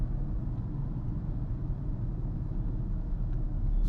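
Car engine humming while driving through Chennai city traffic, a steady low rumble heard from inside the vehicle, constant and moderately loud.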